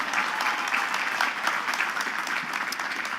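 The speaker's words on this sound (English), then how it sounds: "A round of applause for you." Audience applause at a 2017 Queens College commencement ceremony, a steady, dense wash of many hands clapping throughout, fairly close and even in level, with no voices standing out.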